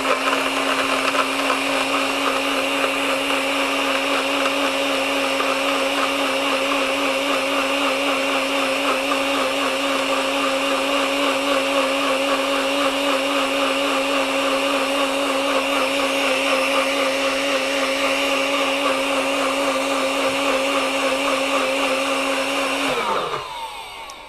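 A blender runs continuously to mix hot chocolate with almonds, a loud, steady whirring motor with a constant tone close by, then winds down and stops right at the end, with no talking.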